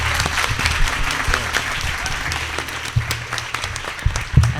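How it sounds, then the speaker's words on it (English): Audience at a science panel on film consultants applauds the panelists, a dense sustained clatter of many hands with low thuds underneath and a few louder claps near the end. "Please give our panelists a round of applause"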